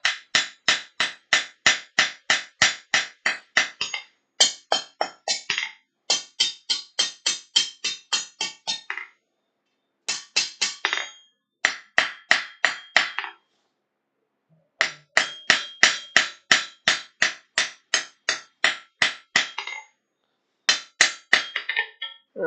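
Hot steel is hammered flat at a forge to finish a scroll tail: close, ringing hammer blows in rapid bursts of many strikes each, separated by short pauses, with no talk.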